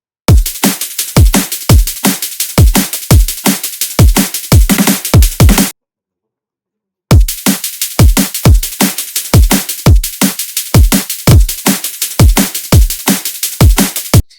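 Loud drum and bass breakbeat from the drop of a remix: rapid kicks and crisp snares looping in a tight, fast groove, cutting out briefly to silence before the beat resumes, with no talking.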